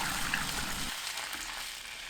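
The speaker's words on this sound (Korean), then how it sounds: "들기름 2큰술 넣고 중불로 2분 30초 볶아주세요" Potatoes stir-fry in perilla oil over medium heat, giving a steady close sizzle throughout, with a heavier crackling for the first second before it settles into a thinner, even hiss.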